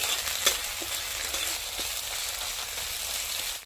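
Garlic and ginger paste frying in a pan as the base for a pork curry with ghost chili, a steady close sizzle with a few stirring scrapes and no talking.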